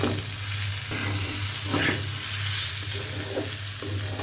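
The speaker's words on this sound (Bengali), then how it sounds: "অল্প আছে হালকা করে নেড়ে চেড়ে ভেজে নেব।" Vegetables and rice for khichuri stir-fry in a hot pan, a continuous close sizzle broken by scraping spatula strokes in an irregular rhythm, with no talking.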